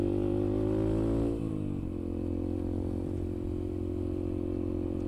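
A Yamaha TTR 125 motorcycle rides along a street, its engine droning steadily up close, then easing off and settling into a rougher, lower idle-like hum after a brief shift in pitch.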